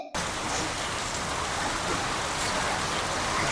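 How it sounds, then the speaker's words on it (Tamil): Steady heavy rain falls in Coimbatore, a dense, even hiss of drops on surfaces that starts abruptly and continues without a break. "நம்ம கோயம்புத்தூர்ல சூப்பரா மழை பெஞ்சிட்டு இருக்கு மழை சாரணம் அப்படியே மழை படுது"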